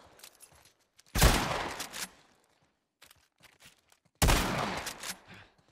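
Shotgun blasts in the survival game The Last of Us, two heavy booming shots several seconds apart, loud and close with a short rumbling tail, and faint game noise between them.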